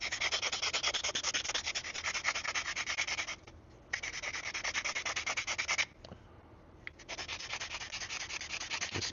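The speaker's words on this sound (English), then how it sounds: "Let's take this sharpening stone and see if we can't take some of this black glazing off of this end of the" A hockey-puck sharpening stone scrubs black glazing off the end of a bow drill spindle in fast, rhythmic rasping strokes, close and steady, broken by two short pauses.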